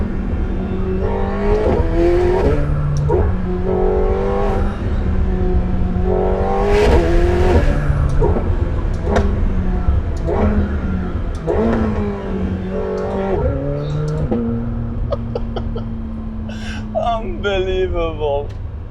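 McLaren 750S supercar accelerating hard on narrow German roads, engine note rising through repeated gear pulls, loud and close throughout with someone talking over it.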